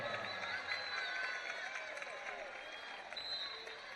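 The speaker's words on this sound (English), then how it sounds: "And a nice round of applause for Ava" Distant crowd noise with light applause and murmuring from a women's basketball game audience in a gym, faint and continuous with squeaks in the background.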